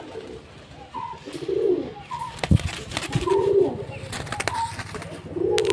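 Restless pigeons in a loft cage coo in repeated low rolling phrases, roughly every second or two, with a few sharp knocks and rustles of movement; the birds sound close and lively, with no talk.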